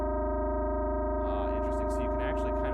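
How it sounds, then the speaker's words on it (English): A steady FM synth tone from Ableton Operator holds a sustained buzzy pitch, then a third oscillator joins and adds wobbling, shifting upper harmonics over the final second and a half. "Let's now turn on that third oscillator that we have in there."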